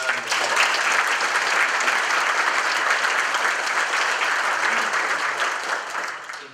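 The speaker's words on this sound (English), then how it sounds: "Give yourself a round of applause." A roomful of volunteers at a sheriff's office luncheon gives a round of applause, dense, loud, sustained clapping that holds steady and then begins to fade.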